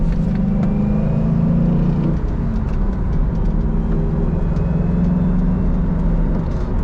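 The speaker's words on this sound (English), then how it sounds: "So we're in second gear right now." A car pulling in second gear at about quarter throttle, the engine a steady, loud low drone with a slight rise and fall in pitch as it cruises, heard close from inside the cabin.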